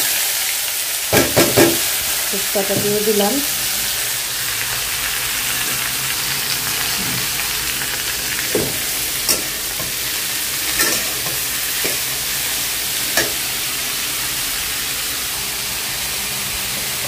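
Chillies and other food fry and sizzle in a pan, a steady broadband hiss running throughout, with clustered stirring clacks early on and scattered utensil knocks later. A brief spoken phrase sits near the start.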